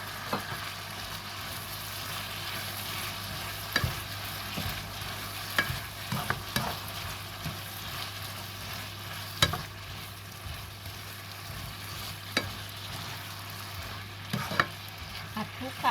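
Faint sizzling as wood ear mushrooms are stir-fried in a pan with repeated scraping and stirring clicks, steady frying hiss throughout, no voices.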